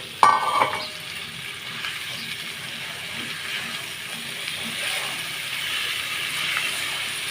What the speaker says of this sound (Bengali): চিংড়ি মাছগুলো দিয়ে আমি নেড়ে চেড়ে ভালোভাবে ভেজে নেবো